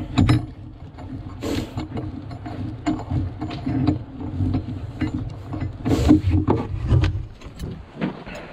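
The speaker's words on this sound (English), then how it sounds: "This is probably going to be a lot better with a socket wrench." A socket wrench works a nut loose with repeated ratcheting clicks and metallic clanks, close and fairly loud over a low background rumble, in bursts of turning.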